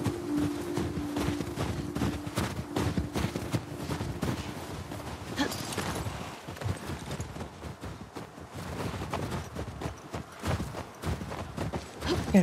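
Horses galloping in the video game The Last of Us Part II, a steady rapid clip-clop of hooves running throughout, with a low tonal hum early on and some faint background noise.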